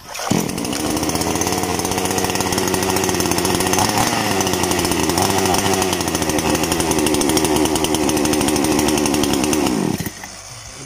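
An Arto 5200 chainsaw engine catches and runs steadily at a loud, close idle-to-rev buzz for about ten seconds, then cuts out abruptly, leaving only faint background noise.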